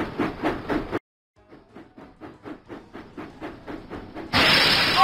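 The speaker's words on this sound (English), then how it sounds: "James puffed proudly into the fair." A steam locomotive in a Thomas & Friends video game puffs in a steady run of rhythmic chuffs, framed by bright game music before and after.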